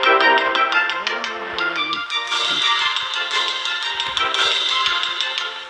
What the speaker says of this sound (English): If I wanted to orchestrate this onto the rocks with a brass band, it might sound like this.